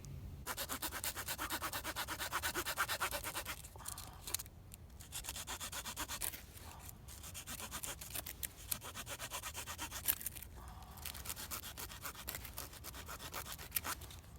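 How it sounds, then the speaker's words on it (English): Victorinox Trekker pocket knife saw blade cutting through wood outdoors, quiet close rasping strokes repeated steadily with a few brief pauses. "It cut so quickly I had to kind of readjust my setting a couple times just so I didn't go through and end up hitting the rock with the saw blade."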